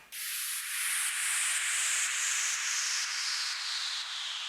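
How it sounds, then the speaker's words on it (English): A white noise sweep in an electronic dance track rises loud and steady, its hissing band slowly gliding downward in pitch over several seconds, heard alone without any voices. "simple white noise,"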